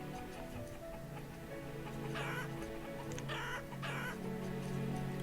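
Chickens cluck in the video game Banished, a few soft clucks over a steady bed of background game music and ambient village sound.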